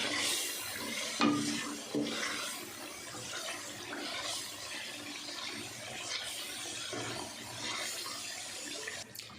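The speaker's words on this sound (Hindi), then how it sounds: "इसको हम अच्छे से मिक्स कर देंगे और थोड़ा सा चूल्हे को हम तेज़ कर देते हैं ताकि अच्छे से इसकी भुनाई कर सकें" Chicken masala being roasted and stirred in a pan over a raised flame makes a busy, close mix of sizzling, scraping and wet stirring that runs steadily throughout, fairly quiet and with no speech.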